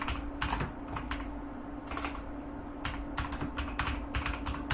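A computer keyboard clicks through quick, uneven runs of keystrokes as a file name is typed, close and fairly quiet over a faint steady hum.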